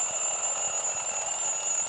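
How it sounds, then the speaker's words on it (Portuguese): An alarm clock rings without a break, a steady, loud, high electronic buzz that holds an even level for two seconds with no voices. "Esse é o som do relógio."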